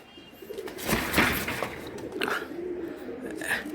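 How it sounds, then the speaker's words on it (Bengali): A Kakji pigeon, a Bangladeshi flying breed, cooing nearby in a rhythmic series of low throaty coos, with a little background chatter and rustling. "এটা কাকজি কবুতর"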